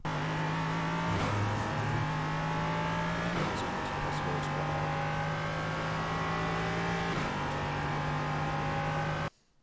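LMP3 race car engine at Zolder in the iRacing video game, a loud continuous whine that rises and drops at several gear shifts before cutting off abruptly at the end.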